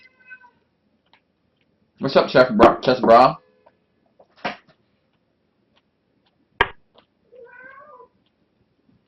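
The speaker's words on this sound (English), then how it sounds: "My cat's meowing his ass off." A house cat meowing in the background, a few short meows and a longer wavering cry near the end, separated by quiet gaps, with a brief spoken phrase early on.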